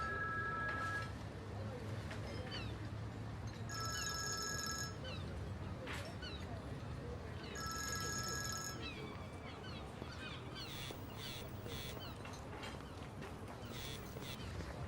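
A telephone rings in short repeated bursts, two clear rings separated by a pause, over busy background noise and movement.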